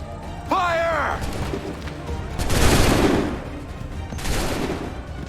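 Musket volley in Assassin's Creed III, several loud bursts of massed gunfire spread across the clip, with a shouted command and background voices around them.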